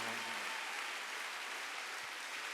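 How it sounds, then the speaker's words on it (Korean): A church congregation at a Wednesday service claps in a steady, even wash of applause, faint and somewhat distant, continuing unbroken for a couple of seconds. "빨리 박수하세요"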